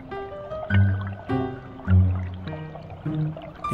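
Water flows through a household drainage channel in a Japanese water garden, gurgling and bubbling in uneven surges at close range, with no voices.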